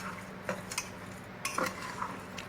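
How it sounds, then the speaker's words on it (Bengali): Faint scraping and clinking as mutton is mixed by hand with chili powder and spices in a pot, a few soft stirring bursts over a quiet background hum. "এবার পুরোটাকে একসঙ্গে ভালো করে মাখিয়ে নেব, যেন মশলাগুলো সবার গায়ে গায়ে লেগে যায়।"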